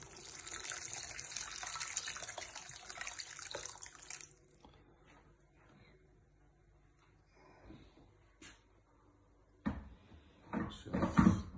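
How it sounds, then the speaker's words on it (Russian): Boiled water pours in a steady gushing stream into a pot of beef for a few seconds, then gives way to quieter kitchen clinks, drips and knocks of utensils against the pot. "добавляю здесь кипяченую воду"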